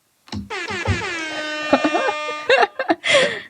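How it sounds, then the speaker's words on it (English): A loud air horn blares in one sustained, buzzing blast, with voices and laughter breaking in around it. "Look at that air horn."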